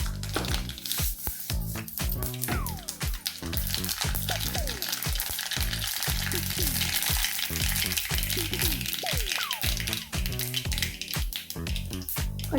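Mustard seeds hit hot oil for a small-tuber fry, sizzling steadily with rapid popping and crackling throughout, close and continuous.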